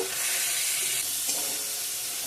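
A steady, close sizzle of cauliflower pieces frying in hot oil in a pan, with a faint stirring scrape partway through.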